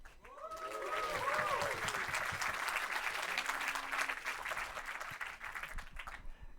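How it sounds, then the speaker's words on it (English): Warm, sustained conference audience applause at a React developer event in Berlin, steady clapping across the whole stretch with a few cheers and voices over it. "I need us to give Noah just like a from the heart applause"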